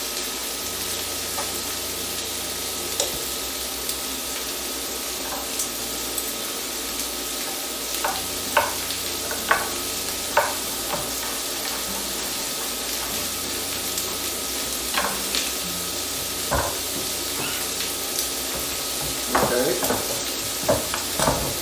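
Cajun steak bites sear in a hot pan with a continuous close sizzle, punctuated by scattered scrapes and taps as they are stirred and turned; no voices over it.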